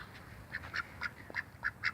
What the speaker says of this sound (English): Here's our male duck.